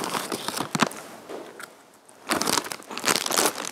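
Kurkure, a crunchy Indian corn snack, being bitten and chewed close up in bursts of sharp crunching with crinkling, a short pause in the middle, then more crunching.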